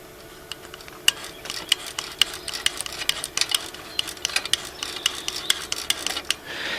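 Mechanical clatter from a Honda ATC185 engine with a broken, thrown timing chain, a steady run of sharp ticks and knocks repeating close by with no voices.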